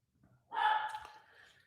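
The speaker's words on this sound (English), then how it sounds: "That dog you hear barking now is a little old lady Chihuahua" An old Chihuahua gives a single short bark, faint and slightly distant, in an otherwise quiet room.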